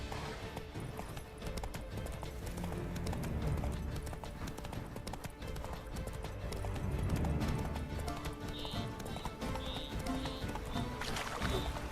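Roach, the horse in The Witcher 3, gallops continuously with dense, rapid hoofbeats over a busy game background, with a short whinny-like cry near the end.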